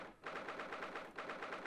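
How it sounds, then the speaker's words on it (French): Rapid gunfire rattles in The Great Ace Attorney video game: two quick, evenly spaced bursts of shots separated by a short gap, quiet and without talk. "Ouais, c'est vrai, les coups de feu."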